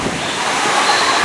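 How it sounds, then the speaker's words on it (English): Water from a waterfall splashes and rushes on a theme park water ride, a loud, continuous wash of spray with no breaks through the short moment. "the waterfalls are back on"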